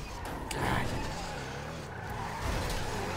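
A car in GTA V Online skids and its tires squeal in short bursts over continuous game engine noise, with voices talking over it.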